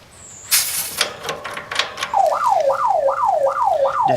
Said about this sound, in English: disconnect it to activate the alarm